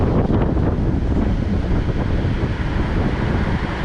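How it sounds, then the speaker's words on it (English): Wind gusts outdoors at a dyno tuning session for a Corvette Z06, a loud continuous rumble buffeting the microphone, swelling and easing throughout with no voices. "It might be also because of the wind. It's like blowing, not blowing, blowing, not blowing."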